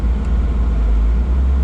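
Low, heavy rumble from the cammed engine of a Chevrolet Caprice PPV with over 450 horsepower, a steady deep drone heard close and loud for a brief moment.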